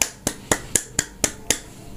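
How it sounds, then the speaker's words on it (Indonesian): Seven crisp, evenly spaced hand claps ring out alone, about four per second, light and fairly faint with short tails in a quiet room. "tepuk tangan"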